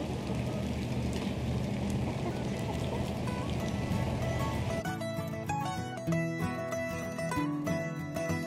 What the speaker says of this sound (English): So it's raining out here.